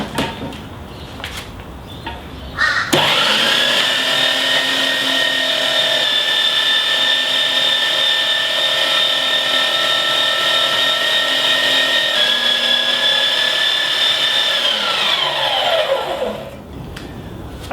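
Meat mincer grinding about 1 kg of venison into a coarse sausage mince, a steady loud motor whine that starts abruptly, holds with a slight dip in pitch partway, then spins down near the end.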